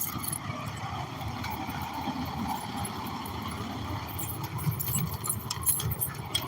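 Keys jangling in a few brief, bright metallic bursts over a steady low rumble, clustered mostly toward the end.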